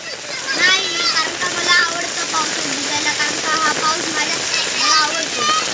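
Steady rain falls in a Konkan village during the first rains of the season, making a constant broad hiss close by while children and an adult talk over it throughout.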